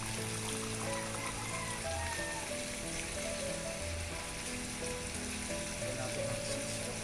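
Six cups of water pour steadily into a cooking pot for batchoy, a continuous close splashing rush that covers the whole stretch, with music playing underneath.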